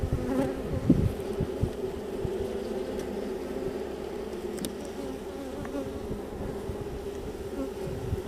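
Queenless honeybees roaring inside a hive box, a dense continuous buzzing drone heard up close with no pauses.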